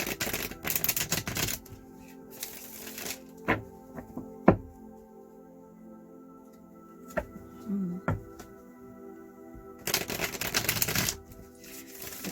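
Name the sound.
tarot cards being laid out on a table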